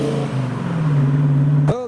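A TVR Chimera leaves a car show with a steady engine drone close by that holds its pitch, then ends in a sudden sharp burst.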